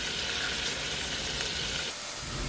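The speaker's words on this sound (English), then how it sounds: "While these are frying on medium heat, you want to keep them moving." Steady sizzling of meatballs frying in a pan on medium heat, a continuous crackling hiss with no talking.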